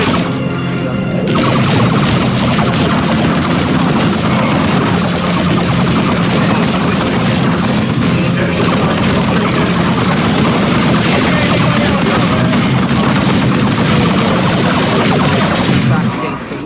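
Dense, continuous gunfire and crashing impacts from a Dawn of War 2 battle, a loud unbroken wall of machine-gun fire and explosions with voices shouting through it.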